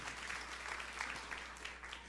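Congregation applauding during a church sermon, a dense, steady wash of many hands clapping at moderate level throughout, with no voices on top.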